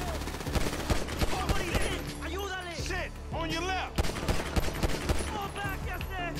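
Rapid bursts of gunfire crack through Grand Theft Auto V gameplay, dense and loud, mixed with in-game voices talking over the shooting.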